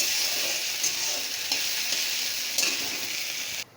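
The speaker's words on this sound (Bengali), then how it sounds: "ধুয়ে রাখা মুগ ডালটা দিয়ে দিলাম। দিয়ে এটা একটু ভেজে নেব।" Washed moong dal frying in hot oil, a steady close sizzle broken by a few stirring scrapes, cutting off abruptly at the end.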